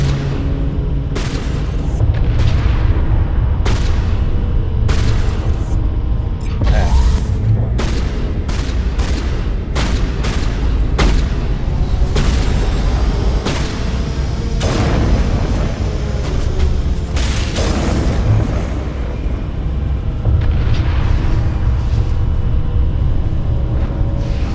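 Dense, loud gunfire and booming explosions from a Mass Effect battle roll on almost without pause, sharp shots and heavy blasts layered into a continuous barrage.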